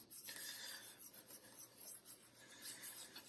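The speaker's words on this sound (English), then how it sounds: "we'll take my fingers and we'll kind of rub that in" Fingers rubbing oil pastel into paper on a pastel mat, a faint, close scratchy rasping in short repeated strokes, heard alone.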